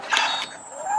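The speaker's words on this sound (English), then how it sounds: "The head. You can swivel it to the left" A plastic Transformers Titans Return Fortress Maximus toy head turns on its joint with a brief, close creaky scrape and a faint clicking rasp that lasts under a second.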